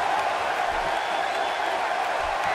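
A virtual crowd in a wrestling video game gives off a steady, broad roar of cheering at an even level, with no break across the short stretch.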